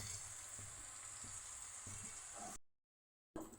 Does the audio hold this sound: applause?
no